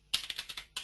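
Quick run of computer keyboard keystrokes while a web address is typed into a browser, about six or seven crisp clicks in a fast steady rhythm, close and fairly loud, with no talk.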